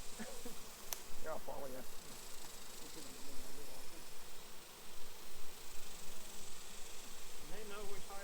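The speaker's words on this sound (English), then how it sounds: "They know which hive to go into." Honey bees swarm around hives at an 1887 Kansas farmhouse, making a dense continuous buzz close by with a few sharper passes, while people talk quietly over it.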